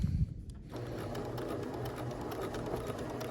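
A sewing machine runs steadily along a long fabric hem, a continuous close whirring drone that holds at an even level through the whole stretch.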